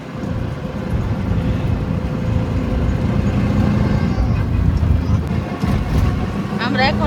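A TVS CNG auto-rickshaw travelling along a highway, its engine and road noise a loud, steady rumble from inside the cab while people talk over it.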